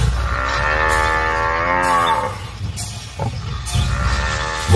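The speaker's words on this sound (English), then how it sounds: "the angry bulls are back for another skirmish." Angry buffalo bulls bellow loudly and close in the wild, a long deep drawn-out low followed by shorter grunting calls amid rustling and movement.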